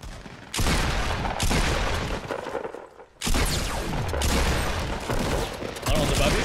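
Heavy gunfire in Fortnite, a loud, dense barrage of overlapping shots that roars almost without a break, dropping out briefly partway through and then resuming at full strength.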